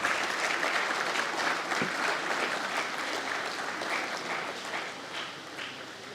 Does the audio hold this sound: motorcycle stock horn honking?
no